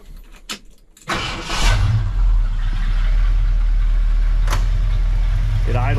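A 1972 Ford F-250 Sport Custom Camper Special cranks and fires after a second of quiet, then settles into a smooth, steady, close idle.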